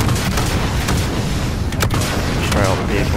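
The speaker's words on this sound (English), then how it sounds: "Enemy armor on the deck, hit him with a missile." Missile strikes hit enemy armor and vehicles in Call of Duty: Modern Warfare, a dense, steady roar of battle with a few sharp blasts breaking through near the middle and end.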